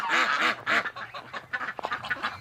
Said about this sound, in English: Every time they quack out here, I can hear them quacking back in the house.